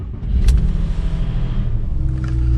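1999 Porsche 911 Carrera 4 starting up indoors, a brief starter catch followed by the engine settling into a loud, rumbling idle close by.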